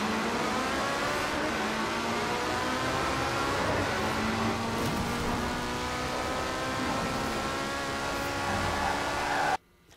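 A car engine in Forza Horizon 4, fully upgraded, revs hard with rising harmonic tones through sustained acceleration, loud and close, cutting off abruptly at the end.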